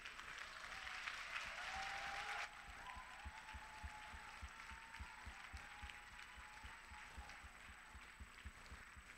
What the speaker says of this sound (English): Let's clap hands for Jesus.